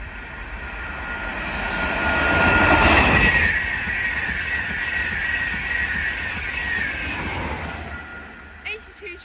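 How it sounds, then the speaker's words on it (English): LNER 225 set express from Leeds to London King's Cross passing through Hitchin, a broad roaring rush that swells to a peak early and then holds a steady rumble before easing off. "The next train to pass by is going to be LNER 225 set from Leeds to London King's Cross."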